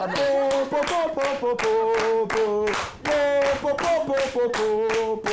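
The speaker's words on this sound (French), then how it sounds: "Je suis le seul à applaudir ici ou bien?" Rhythmic clapping on a live evening television show, sharp claps in quick groups set against a strong musical backdrop with sustained tones, loud and close throughout.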